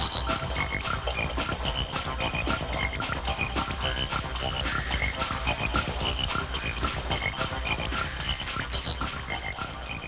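Frogs croak in a garden in an animated children's story, a dense and continuous chorus of rapid rhythmic croaks that stays loud and even throughout, with no talk.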